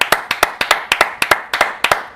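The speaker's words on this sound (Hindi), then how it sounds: "साउथ अफ्रीका ऐसी परफॉर्मेंस के लिए तालियां" Close, sharp hand claps for South Africa's cricket win by 76 runs over India, struck by a single person in a quick, steady rhythm of loosely paired beats, about eighteen in all.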